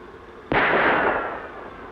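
A single sharp gunshot cracks out in a radio drama shootout, a sudden close blast followed by a decaying echo that fades over about a second.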